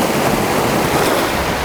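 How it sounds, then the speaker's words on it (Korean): Loud waves break and wash over a pebble beach in Goheung on the southern Korean coast, a continuous surging roar buffeted by wind across the microphone. "저기 파도 치는 소리가 시끄러워가지고"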